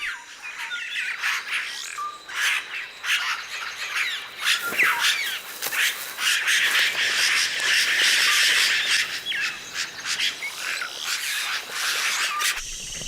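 A toucan squawks while raiding oropendola nests in the Amazonian forest, loud, harsh calls repeating over a dense chorus of chirping birds and insects.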